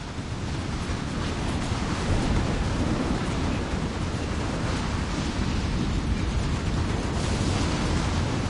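A thunderstorm in the Mass Effect video game rages as a steady, loud wall of rumbling rain and storm noise, broad and continuous throughout with no speech.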